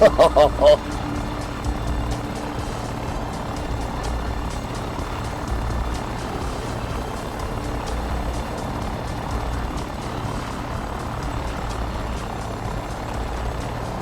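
A helicopter in the FlightGear flight simulator, cruising over New Zealand, makes a flyby as a steady low rotor and engine rumble that holds throughout, with voices talking over it.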